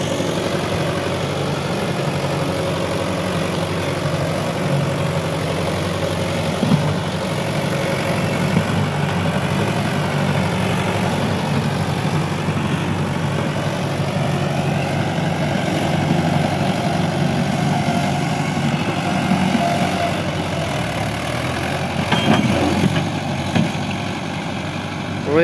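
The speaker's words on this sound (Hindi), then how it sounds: "तो भाई ये इस टाइम जहां पे चल रहा है ट्रैक्टर," A heavy tractor engine rumbles steadily at idle in mud for a long stretch, low and continuous, with a few brief knocks and clatters near the end.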